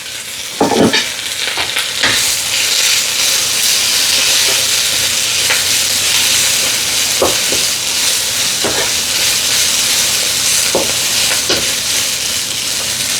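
Chopped garlic sautéing in hot oil in a pan, a loud, steady sizzle that runs throughout, broken by several sharp scrapes and knocks of a stirring spoon.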